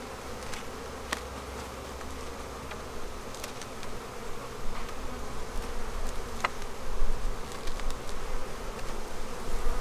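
Honey bees buzz around beehives that are ready for winter, a dense continuous hum with occasional louder passes of single bees close by, swelling slightly over time.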